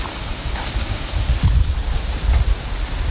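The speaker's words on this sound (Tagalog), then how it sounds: "Nakalakas ang ulan." Heavy rain pours down outside, a dense rushing hiss with low thumps and gusty swells across a few seconds, no talking.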